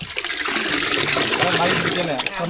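Buttermilk with ground ginger, mango and chilli is stirred briskly, producing continuous close sloshing and splashing liquid sounds with no pause.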